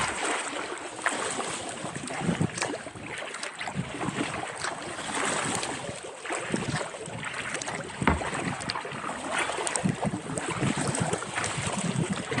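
Kayak paddling on the Latrobe River through a short, choppy wind swell, with steady broadband wind and water wash and irregular splashy surges from paddle strokes and chop, moderately loud throughout.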